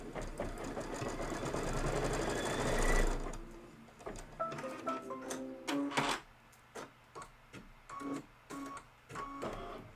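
An embroidery machine stitches a tack-down for a Kimberbell Cup of Cheer project, starting with a dense whirring run and then settling into irregular clicking, tapping bursts, close and fairly quiet.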